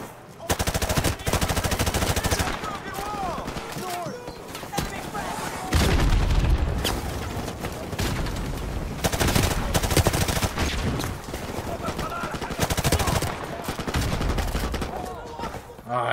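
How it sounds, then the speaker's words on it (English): Sustained automatic gunfire from a first-person shooter campaign in Modern Warfare Remastered, loud and dense bursts of rifle and machine-gun fire rattling throughout with booming impacts, while voices speak over the combat. "Suppressing fire!"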